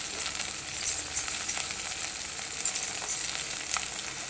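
Onions, green chili and tomato sautéing in a pan for a carrot stir-fry, a low steady sizzle punctuated by light metallic clinks of stirring, with no talk.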